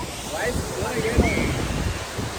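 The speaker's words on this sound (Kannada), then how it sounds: "ಜೋರಾಗಿ ಮಾತಾಡೋಕ್ಕೆ ಕೇಳಿಸಲ್ಲ ವಾಟರ್ ಫಾಲ್ಸ್ ಇರೋದಕ್ಕೆ" Roaring waterfall on the Dubare river, a broad steady rush of falling water that fills the whole clip, with voices faint under the constant noise.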